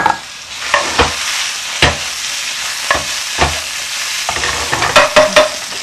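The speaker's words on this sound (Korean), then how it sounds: "자, 그럼 재료를 한번 볶아 보겠습니다." Potato, carrot, shiitake and other vegetables seasoned with soy sauce, pepper, sugar and sesame oil stir-fry in a little oil for vegetarian jajangmyeon, with a steady close sizzle broken by repeated sharp spatula scrapes and clatters.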